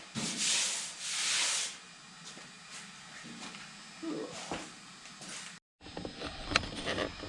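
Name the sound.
grinding down metal on a fender patch panel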